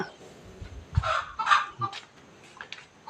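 Chickens cluck near a temple in Chae Hom, Lampang, in short uneven bursts, close and moderately loud against a quiet rural background, with a few clucks spaced apart.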